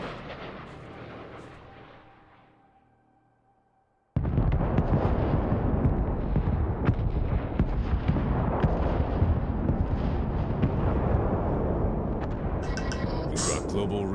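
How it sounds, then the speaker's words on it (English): A missile impact explosion in Crossfire: Legion hits abruptly after a quiet fading lead-in, then sustains a loud, dense rumbling roar of blasts and debris for about ten seconds, with voices talking underneath. "Six seconds till missile impact."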